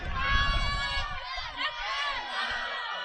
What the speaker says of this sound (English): The crowd loud in the ears of the players on the field